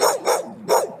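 A stray dog barking outdoors near a marina harbor, three quick, fairly close barks in a short burst with slight whimpering tails between them.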